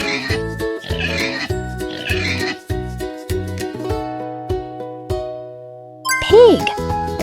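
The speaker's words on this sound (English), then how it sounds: "Pig!" A pig oinks in a children's guess-the-animal quiz, the grunts mixed into a cheerful jingling musical backing with a bright chime sweep near the end.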